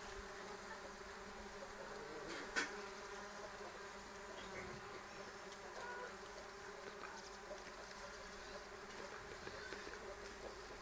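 Steady, faint buzzing of small mason bees hovering around pear blossoms, a continuous drone with a brief louder pass as one flies close.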